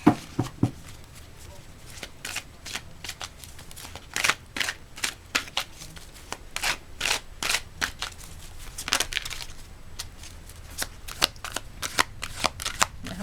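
A deck of surrender oracle cards being shuffled, with repeated crisp riffling and flicking bursts in an irregular rhythm, close and fairly loud over a faint room hum.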